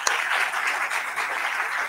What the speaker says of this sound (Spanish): Les pido por favor para ambos de nuestros ponentes un aplauso por estar aquí